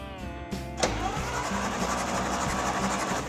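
A vintage International Harvester engine being cranked over, a steady, rhythmic mechanical churning with a sharp knock near the start. It stays loud and close, with no voices.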